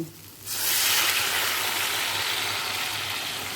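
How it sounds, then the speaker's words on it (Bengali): Hot water poured into a pan of potatoes browned with spices for a curry, a sudden loud, steady sizzling hiss that starts after a quiet moment and holds strong to the end. "এরপর দিয়ে দেব গরম জল"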